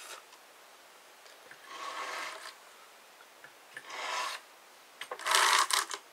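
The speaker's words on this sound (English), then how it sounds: "You're just peeling it off the drum, making sure that you get all the fibres off" Carded wool batt peeled off the drum of a drum carder, giving soft bursts of fibrous tearing and rasping that come in several separate pulls, rising louder toward the end.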